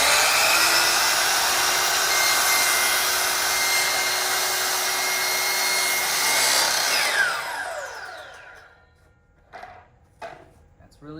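A compound sliding miter saw cuts through wood with a loud, sustained whine and rasp for about seven seconds. The blade then spins down and fades, leaving a few quiet knocks and handling sounds near the end.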